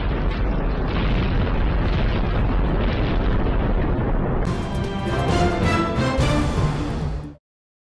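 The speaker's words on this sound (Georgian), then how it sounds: "კურსკის აეროდრომზე აფეთქება გამთენიისას მოხდა დრონის თავდასხმის შედეგად" A deep, continuous explosive roar rumbles loudly for about seven seconds at a Kursk airfield after a dawn drone attack, where an oil storage tank blew up. Sharper crackling bursts join it toward the end before it cuts off.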